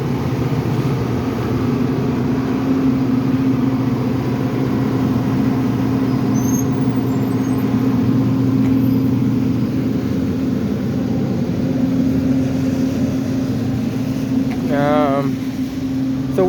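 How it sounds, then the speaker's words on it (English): Large utility power generator running on a city street, a loud steady engine drone with a constant low hum throughout, with a brief faint sound near the end. "There's another generator here as well here."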